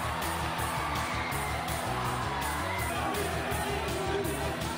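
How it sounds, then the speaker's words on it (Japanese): A high school soccer club's loud supporters cheer at a basketball final, chanting in a steady rhythmic beat with drum-like pulses, a dense crowd roar with no clear talk. "応援に駆けつけたサッカー部の大声援が後押しして"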